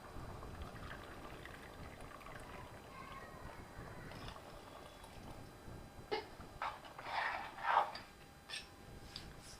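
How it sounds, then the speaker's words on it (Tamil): Water coming to a boil in a pot for seeraga samba chicken biryani, a soft low bubbling and gurgling that grows busier toward the end, close but faint, with no talking. "கொதி வந்துருச்சு"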